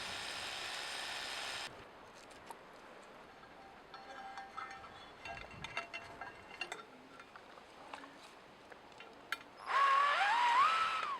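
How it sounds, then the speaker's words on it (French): A drill bores holes to mount a video intercom bracket, a steady whine opening the sequence, then quiet scattered taps and clicks of fixing work, ending with another loud drilling burst nearby. "je perce et je fixe."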